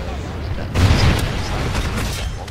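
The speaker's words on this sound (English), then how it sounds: "Friendly Trinity rocket inbound" A Trinity rocket strike lands in a Call of Duty: Ghosts multiplayer match, a sudden heavy booming blast with a rumbling tail over continuous game noise.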